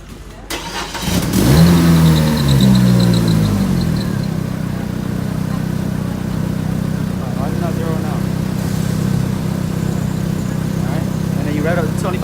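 Car engine revved up and held around 2500 RPM during a starting and charging system test, a steady loud mid-pitched drone after a brief rising rev, close by with some background noise.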